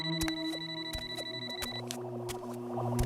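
A phone rings with steady repeated electronic tones in a quiet indoor scene, the call coming from a brother, the ringing clear and fairly close with no one talking over it.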